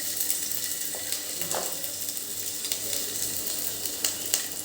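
Ginger sizzles steadily in hot oil in a nonstick pan, a continuous close crackling hiss with small pops and scrapes scattered through it and no voices.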